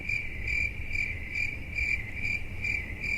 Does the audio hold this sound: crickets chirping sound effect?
yes